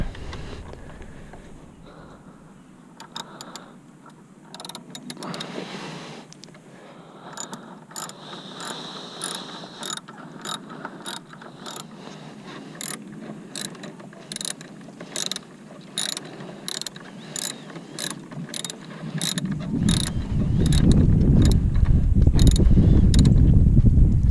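A ratchet turns out a long bolt during an SXTH Element intake install on a Hyundai Veloster N, giving rapid, evenly spaced metallic clicks in bursts, close up. A louder broadband rush swells in near the end, with no talking.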